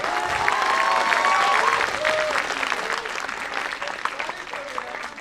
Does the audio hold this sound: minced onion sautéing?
no